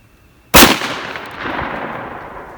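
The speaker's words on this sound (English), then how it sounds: "same thing that he shot, modified 9 pellet S&B Buckshot. Only difference is it's through the Benelli M4" A Benelli M4 shotgun fires a single sharp, loud blast of modified 9-pellet S&B buckshot, followed by a long rolling outdoor echo.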